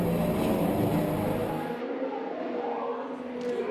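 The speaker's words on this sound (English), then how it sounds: "The cars finally take off with a roar and begin their fierce race." Race cars roar off the start of a race, a loud dense engine wash that sweeps past and thins out as the pack pulls away, with no talk over it.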